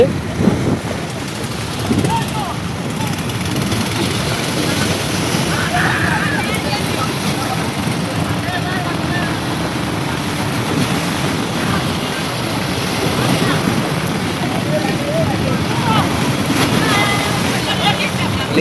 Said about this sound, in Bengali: টানা বৃষ্টির প্রতীকে এই যে দেখছেন সাগরে এখনো জোয়ার জোয়ার যে ঢেউ আসতেছে